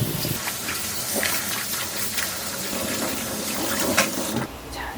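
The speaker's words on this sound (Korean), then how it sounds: "이렇게 깨끗하게 세 번은 씻어주셔야 돼요" Tap water runs steadily over pepper leaves being rinsed in a sink, a close, continuous splashing hiss that stops abruptly just before the end.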